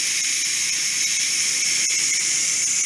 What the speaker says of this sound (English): We're just going to take it and turn it that way and release the steam.